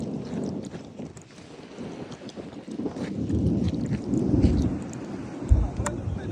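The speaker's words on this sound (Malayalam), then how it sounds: "മിസൈലൊന്നല്ല കേട്ടാ, നല്ല ഇടിമിന്നലാണ്," Low thunder in Ras Al Khaimah rumbles and swells toward the middle, with a sharp low thud near the end and rain noise underneath.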